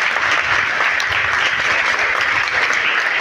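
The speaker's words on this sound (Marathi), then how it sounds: "म्हणून पुन्हा एकदा या दोघांसाठी एकदा जोरदार टाळ्या वाजवा." Continuous, dense applause from an audience at a farewell ceremony in a rural Maharashtra setting, steady and fairly loud throughout with no talking over it.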